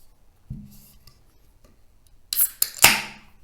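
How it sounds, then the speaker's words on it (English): Beer, a stout from a craft can, is poured and swirled in a glass: a soft knock near the start, then a burst of bright fizzing and clinking glass sounds toward the end, fairly close and with no talk. "So just watching this beer as it's poured and just shaking it around the glass"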